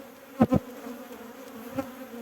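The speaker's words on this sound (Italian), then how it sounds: "Quando le api stanno uscendo dai favi che noi abbiamo concesso" Honey bees leaving the combs of a hive give short, close buzzing bursts, two quick ones near the start and a softer one later, over a low steady hum.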